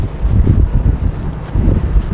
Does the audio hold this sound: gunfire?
no